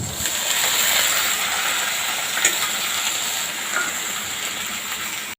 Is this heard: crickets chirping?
no